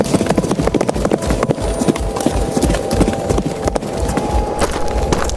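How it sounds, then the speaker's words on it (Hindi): Horse hooves clip-clop steadily and fast over a dense outdoor bed of noise, the galloping beats close and loud throughout with no voices. "इसके पीछे ही उसके मुसाहिब ने घोड़ा दौड़ा दिया।"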